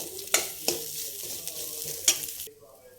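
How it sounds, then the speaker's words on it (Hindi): Chicken soup is stirred in a pot over high heat, a steady sizzle broken by several sharp scraping clinks of the spoon, fading out near the end. "हाई करके थोड़ा चलाएंगे"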